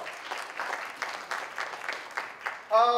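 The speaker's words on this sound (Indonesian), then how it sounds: "Tepuk tangan dong." A few seconds of light, scattered clapping from a small seminar audience, ending as a voice begins to speak.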